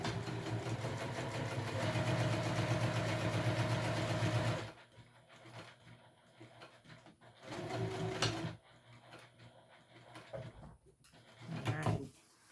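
A sewing machine back-stitching a wristlet bag: a steady close mechanical whir for about four seconds, then quiet handling, followed by a few short bursts of stitching later on, no talk.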